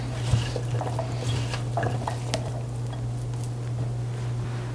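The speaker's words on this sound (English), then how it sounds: "So we get the meat, all these nice vegetables and seasonings stirred up here and coated." Beef and vegetables coated in flour and seasonings for a slow-cooker stew are stirred and tossed, with soft scraping and light taps over a steady low hum.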